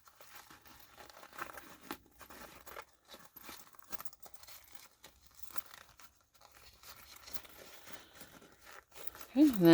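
Sewn zippered fabric pouch being turned right side out, with soft rustling, crinkling and scrunching of cloth in irregular bursts, fairly quiet and close, with a voice speaking briefly near the end.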